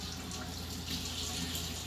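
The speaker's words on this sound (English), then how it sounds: "I get the bone in, and we're just going to give it a quick rinse." Bone-in ribeye steak rinsed under a running kitchen tap, a steady close splashing gush of water over the meat with no talking.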